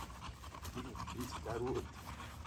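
A young dog on its first time on a leash pants in quick, soft bursts close by, while someone speaks encouragingly over it.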